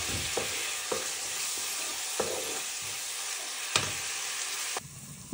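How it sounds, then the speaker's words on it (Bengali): Fish frying spicy bhuna style in a pan, a steady hiss of hot oil broken by sharp scrapes of a spatula, close and without talk, ending in a sudden drop near the end. "আমি মাছটা একটু ঝাল ঝাল করে ভুনা করি"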